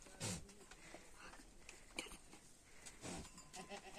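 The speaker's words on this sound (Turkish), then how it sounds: "Keçiler de ürktüler gülüm" Goats bleat a few times amid farmyard bustle, with one sharp cry near the start and another later, moderately close.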